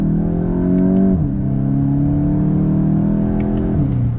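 A 2022 VW GTI hot hatch accelerates hard on throttle, its engine note loud and close, climbing steadily in pitch and dropping twice at quick upshifts.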